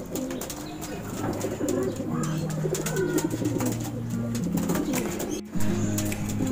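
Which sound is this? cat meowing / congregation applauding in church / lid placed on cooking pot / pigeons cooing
pigeons cooing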